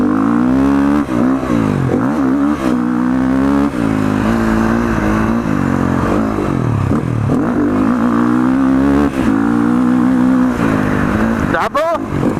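A Sherco 450 SCF factory cross-country dirt bike engine revs hard and close during a ride on a dirt track, pitch rising and falling through gear changes, with a rider talking over it.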